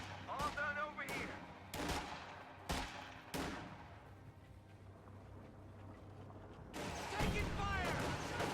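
Gunfire in a World War II video game, several sharp loud shots in quick succession followed by a quieter stretch, then a burst of dense rapid fire, with a voice speaking over it.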